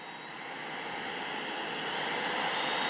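A Homeika P10 cordless stick vacuum runs on its lowest suction setting, giving a steady, close, high-pitched whine and airy roar that rises slightly in loudness, with no voices.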